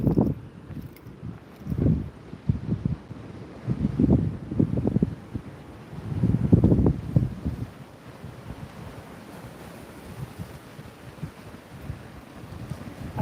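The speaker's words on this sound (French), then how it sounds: "Alors je pense qu'il y a du vent, que peut-être vous ne m'entendez pas trop bien." Gusty wind buffets the microphone on a seaside walk, low rumbling bursts swelling and fading in irregular waves, loudest in the middle stretch, with no talk heard.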